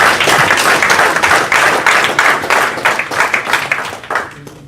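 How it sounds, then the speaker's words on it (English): Crowd at a bare-knuckle fighting press conference applauding the fighters, dense loud clapping for several seconds that thins and fades at the end. "Give a round of applause to my fighters."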